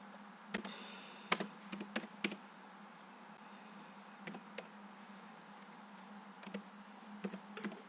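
Typing on a computer keyboard while entering a sentence, heard as scattered clusters of sharp key clicks with pauses between them over a steady background hiss, close and moderately quiet.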